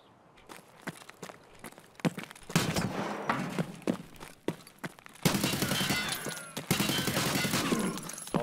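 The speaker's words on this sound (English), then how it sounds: "Somebody's shooting at me now." Gunfire in Escape From Tarkov: scattered sharp shots and bursts, some near and some distant, under footstep-like thumps. The firing thickens into a denser, louder volley in the second half.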